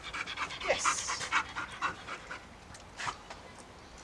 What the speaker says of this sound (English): You're a funny little puppy.